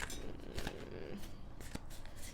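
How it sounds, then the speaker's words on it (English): Oversized tarot cards are shuffled close by, with soft papery riffles and a few sharper flicks and snaps, quiet and uneven. "These cards are so big, so they're like always hard to shuffle"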